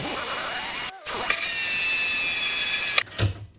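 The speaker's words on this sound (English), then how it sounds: "I'm going to go ahead and drill the hole in the back of the jet ski" A power drill bores a hole through the back of a jet ski hull, a sustained high whine lasting about two seconds between brief starts and stops, close and loud.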